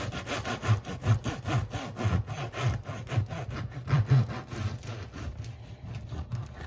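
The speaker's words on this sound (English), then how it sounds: "I'm going to take my knife. I'm going to cut that right in half." A knife saws through a thick, crusty sourdough loaf with a steady back-and-forth rasp of rough scraping strokes, close up and moderately loud.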